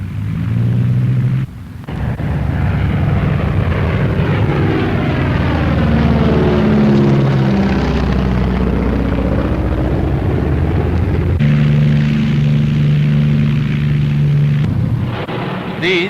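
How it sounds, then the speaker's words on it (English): A four-engined Avro Lancaster bomber from the early-1940s RAF takes off, its propeller engines roaring in a loud, sustained drone whose pitch rises and shifts throughout. "as our Lancaster takes to its element, think again of the importance of every item in its construction"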